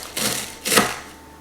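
Weetabix cereal biscuit cut in half at home, two short crisp crunching cuts close by with a pause between them.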